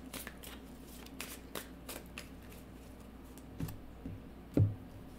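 Tarot cards being shuffled and drawn by hand, soft papery riffles and flicks in short bursts with a sharper slap near the end, close and quiet with no talking.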